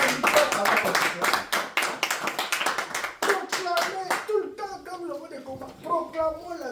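A church congregation claps together in a quick, steady rhythm, loud and close, for about four seconds before voices take over with singing and talk.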